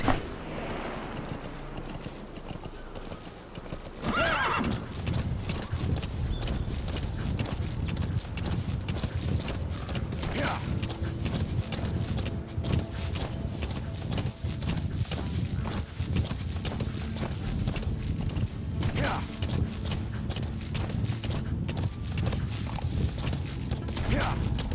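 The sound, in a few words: horses galloping in video game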